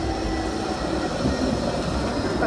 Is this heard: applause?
no